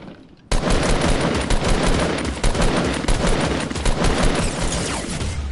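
Sustained rapid gunfire from a video game bursts in abruptly after a brief quiet start and keeps up a loud, dense rattle of shots until the end.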